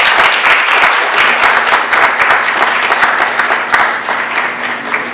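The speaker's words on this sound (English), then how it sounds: "That deserves a round of applause." Sustained applause from an audience at a 4th Ward Alderman campaign event, loud and steady throughout with dense overlapping claps and no break.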